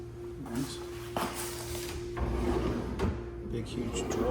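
A large built-in drawer slides open and shut in a home, giving a soft wooden rubbing and scraping under a steady background hum, with faint talk nearby.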